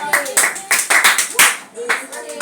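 Students in a science lesson clap in short, uneven bursts, a small group giving themselves a round of applause, fairly close and lively with gaps between the claps.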